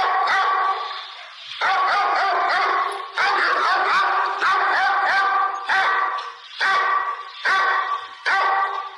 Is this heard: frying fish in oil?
no